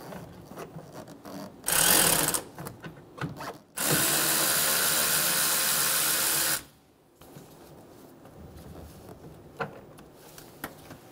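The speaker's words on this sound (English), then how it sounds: "Using a 10 millimeter socket, we're going to remove the 2 bolts for the radiator fan shroud." A 10 mm socket on a power driver whirs loose the radiator fan shroud bolts of a 2005-2015 Toyota Tacoma 2.7L L4, in two close, loud bursts, the second held for about three seconds. Quieter clicks and tool handling follow.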